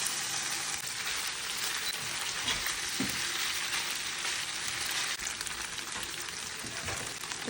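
Marinated ginger beef coated with a little sesame oil fries in a pan, giving a steady, loud, close sizzle with no one speaking.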